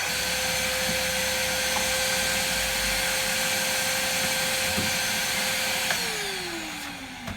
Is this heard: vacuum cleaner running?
yes